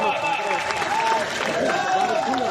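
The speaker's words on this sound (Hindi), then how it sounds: "अपने देश के बहादुरों के लिए ताली बजाओ" A crowd at a political gathering at Khajuraho airport claps in a continuous wash, partly under someone speaking loudly over a public address.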